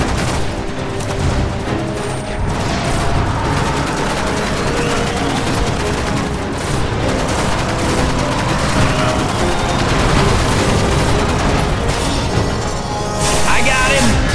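Sustained heavy gunfire from a sci-fi shooter, Destiny, with rapid bursts and booming shots running steadily throughout, loud and dense, while voices call out over the combat.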